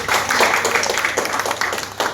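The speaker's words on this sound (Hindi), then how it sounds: "तो सबसे पहले अपने लिए जोरदार तालियां बजाएंगे" Applause from a gathered audience at a Teachers Day event, a fairly loud burst of mixed clapping with uneven rhythm that carries on steadily for the full stretch.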